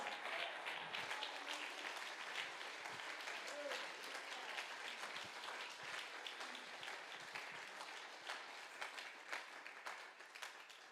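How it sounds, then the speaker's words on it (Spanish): A church congregation at a men's congress applauds steadily, dense sustained clapping filling the room for the whole stretch with a faint voice underneath. "Alguien aplauda la gloria de Dios en esta noche, por favor"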